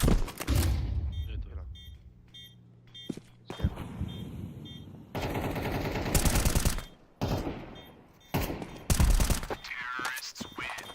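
Gunfire in the video game Counter-Strike, loud close bursts of shots in several clusters with beeps and footsteps between them, and someone talking over parts of the action.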